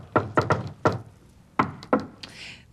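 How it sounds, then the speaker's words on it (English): Knocking on a door in a pattern: two quick raps, a third, a single knock, then two more after a pause, loud, close and sharp, followed by a faint hiss. "That's his special knock."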